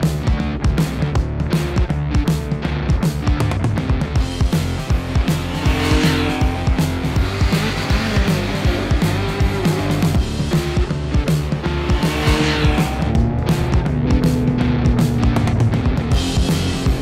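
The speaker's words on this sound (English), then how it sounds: "I show you the all-new Triumph Speed Tripper RR here at Andalusia at the Ascari Race Circuit and on the winding roads." A 2022 Triumph Speed Triple RR motorcycle is ridden hard on the Ascari race circuit in Andalusia, with a continuous loud engine roar that rises and falls through gear changes and throttle, close and dense throughout, with no talking.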